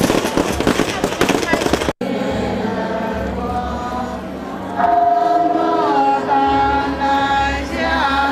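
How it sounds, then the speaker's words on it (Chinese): Firecrackers going off in a dense crackling burst at a Buddhist temple welcoming ceremony, then a sustained mix of crowd noise and drums and gongs with held tones from about the midpoint. "锣鼓喧天，鞭炮争鸣。"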